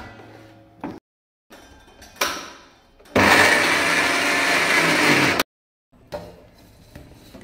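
An electric mixer grinder whirs loudly for about two seconds while grinding rice flour and jaggery, framed by brief clinks and handling of the jar before and after, then silence.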